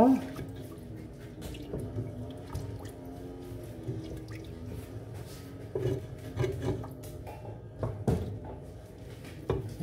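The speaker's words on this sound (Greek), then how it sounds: "Και θα ρίξω και το νεράκι μου." Water is poured into a home cooking pot of food, giving soft splashing and trickling sounds with a few clinks. The sounds are close but fairly quiet, with a voice talking over them.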